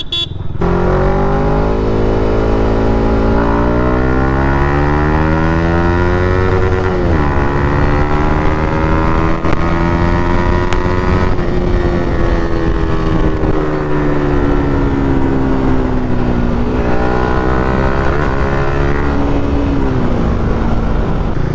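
A Yamaha MT-15 motorcycle running on petrol rides along with a loud, steady engine drone that rises and falls in pitch as the throttle changes, close and continuous with no talking.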